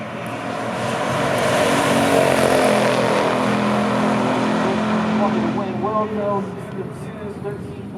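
A 1969 AMC Hurst Scrambler and a supercharged 1964 Studebaker Challenger R3 race on a drag strip, engines roaring in a loud, swelling rush that peaks and then fades as they pull away, with a voice briefly heard near the end.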